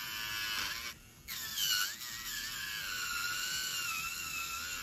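A Makartt nail drill spinning at about 11,000 RPM grinds on acrylic with a high, steady whine, briefly dipping when it loses contact and then holding its speed under pressure.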